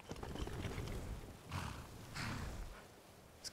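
Horse hooves in Skyrim, a rhythmic clip-clop of a ridden horse moving at a steady pace, quiet and fairly close, with a couple of heavier thuds midway.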